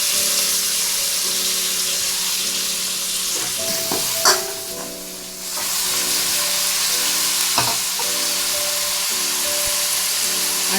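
Onions and curry leaves fry in hot oil with a loud, steady sizzle, broken by a few brief stirring clatters.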